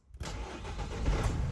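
A 2007 Nissan Primastar van's 2.0 diesel engine cranks and catches after a brief silence, then settles into a steady, rumbling idle close by.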